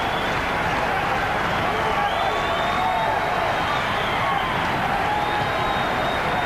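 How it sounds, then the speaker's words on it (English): Boxing arena crowd at a Virgil Hill versus Joe Lasisi fight roaring and cheering continuously, a dense, loud, steady wall of voices with whoops rising over it throughout. "Crowd getting very involved in this one."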